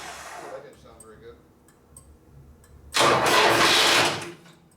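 A brief starter whir and voices give way to a loud, harsh mechanical grinding burst from the starter bendix cranking a 1967 Harley-Davidson 74ci Shovelhead FLH, lasting about a second, then it stops.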